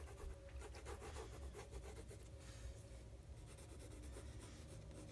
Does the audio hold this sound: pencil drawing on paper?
yes